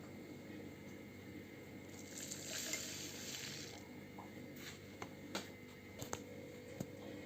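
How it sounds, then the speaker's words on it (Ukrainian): A soft, grainy hiss of two tablespoons of salt pouring into a jar for a couple of seconds, followed by a few light clicks and taps nearby. "Тепер сюди ми маємо всипати 2 столові ложки солі."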